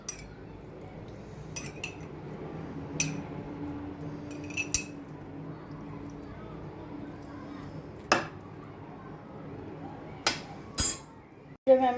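Metal spoon clinking against a glass of milk, several sharp isolated taps scattered over a low kitchen background hum, close and fairly clear.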